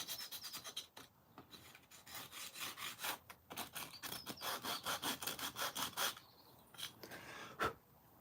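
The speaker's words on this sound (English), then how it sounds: "Note to self, get a better sanding block." Rhythmic back-and-forth rasping of a sanding block on wood, close and steady, with brief pauses between runs of strokes.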